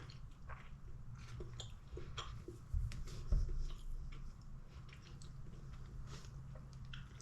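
Close, soft biting and chewing of an orange drizzle cupcake baked in an airfryer, with moist squishing mouth sounds over a few seconds and no talk.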